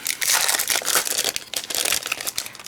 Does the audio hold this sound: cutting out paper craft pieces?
yes